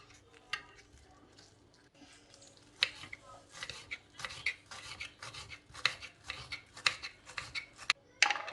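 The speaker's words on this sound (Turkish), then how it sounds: "yeşil soğanı doğrayacağım." Green onions chopped on a cutting board with a knife, giving a run of crisp, close slicing strokes in an uneven rhythm that grows busier toward the end.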